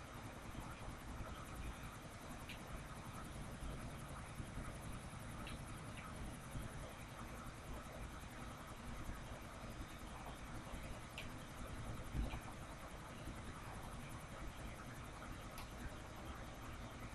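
A helicopter flies in the video game GTA IV, its steady engine and rotor drone running continuously at an even level throughout, with no voices.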